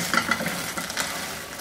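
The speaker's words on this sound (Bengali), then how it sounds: "এই পিঠটাকে ভেজে নিব।" Pitha frying in a pan with a light brushing of oil, giving a steady close sizzle with a few brief scraping or stirring clicks and no talk.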